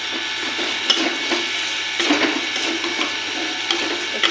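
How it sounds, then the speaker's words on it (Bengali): Fried potatoes go into a sautéed spice paste for egg curry and are stirred in the pan, a steady close sizzle with scraping, stirring and occasional knocks, with no talking. "এবার ভেজে রাখা আলু দিয়ে দিলাম"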